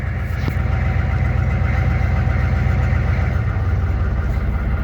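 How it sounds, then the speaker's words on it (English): A 6.2L Detroit diesel engine settling to its normal idle around a yard, a loud, steady, close rumbling drone with an even chugging texture throughout. "the engine just dropped down to its normal idle"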